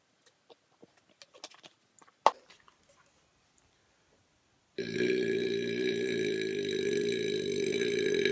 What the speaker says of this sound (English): Very good burp.